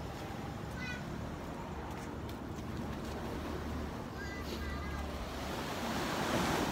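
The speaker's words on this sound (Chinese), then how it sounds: "我听到海的声音，有没有？" Sea waves roll onto Qianshuiwan beach in northern Taiwan at night, a faint, continuous wash of surf heard from a distance, with a few brief high chirping calls over it.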